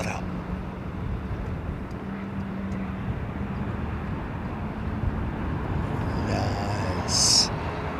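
A distant aircraft engine spools up at Heathrow Airport, a faint steady whine and low rumble under wind and background noise, with a brief sharper sound near the end.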